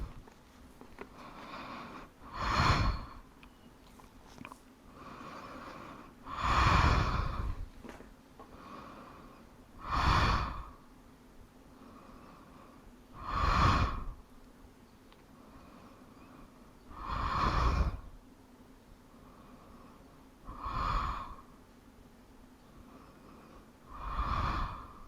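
Slow, deep breaths during a yoga stretch in a full-body session, each inhale and exhale a soft, close rush of air repeating every few seconds with quiet pauses between.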